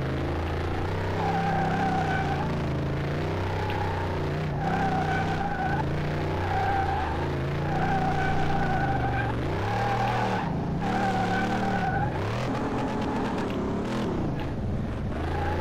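A Dodge Charger in the Car Mechanic video game drives a lap, its engine droning and rising and falling through gear changes, with repeated tire squeals on the turns.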